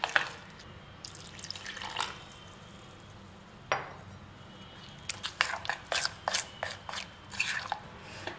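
Water trickles and drips into wheat dosa batter for sweet dosa, a quiet wash of pouring followed by a run of short, close splashing and mixing sounds, with no voices.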